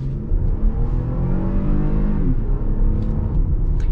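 A 2020 Toyota Highlander Limited SUV with a 3.5 liter V6 accelerating hard, its engine note heard from inside as a loud, continuous drone rising in pitch, dropping briefly at a gear change, then climbing again.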